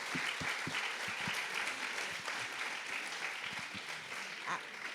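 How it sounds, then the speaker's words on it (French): Audience applause at a public event about peace and security in Normandy, a dense, continuous wash of clapping hands heard from a short distance at moderate level for the full five seconds. "Des applaudissements."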